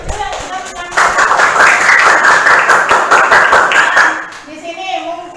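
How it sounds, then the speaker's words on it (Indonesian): Classroom applause for the green group, a burst of clapping hands from pupils that starts abruptly, holds steady for about three seconds and then fades, with talk before and after. "Tepuk tangan untuk kelompok hijau yang sudah menyampaikan."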